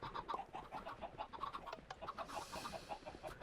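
Chickens in the Minecraft video game cluck steadily around a chicken farm, many birds making overlapping, repeated short clucks at close range with no talking.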